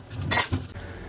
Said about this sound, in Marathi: इथे मी भांडी घासायला घेतली आता